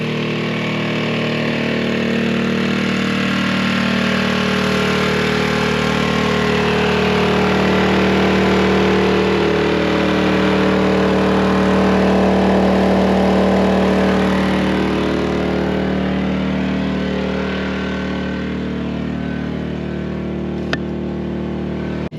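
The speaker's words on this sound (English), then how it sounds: "It's just the King's 2 kVA generator." A King's 2 kVA portable generator runs steadily at idle, a constant loud engine drone with an even, unbroken level from start to finish and no voices.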